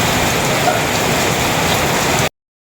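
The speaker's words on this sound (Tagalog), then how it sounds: "Maulan po dito. Malakas po naman po ang ulan." Heavy rain pours down in a dense, steady roar that fills the scene without a break and then cuts off abruptly.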